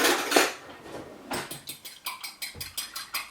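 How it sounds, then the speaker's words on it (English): An egg being whisked in a bowl while making Welsh Glamorgan sausages: a steady run of quick clinking strokes of utensil against the bowl, close and fairly loud, with no talking. "But first we need to whisk our egg."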